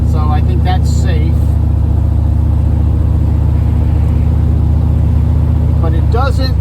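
A 1955 Buick with a turbocharged LS engine swap and a TH400 transmission, running about 4 pounds of boost, accelerates with a loud, steady engine drone while someone talks over it.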